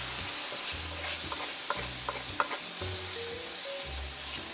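Onions sizzle steadily in a frying pan while a utensil scrapes and stirs them at intervals, the frying hiss continuous and close throughout.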